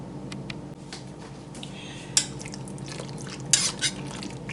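Chicken cacciatore ingredients are tossed in a crockpot with soft wet squishing and shuffling, then a sharp utensil knock against the pot and a couple of later clinks.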